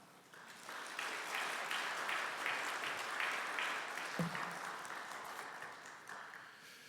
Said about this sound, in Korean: 나오실 때 박수로 맞아주시면 감사하겠습니다